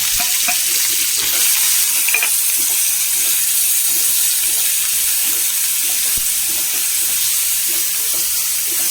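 Green chili, onion, turmeric, salt and curry leaves being stirred in a hot pan, a loud continuous sizzle with steady scraping strokes close by.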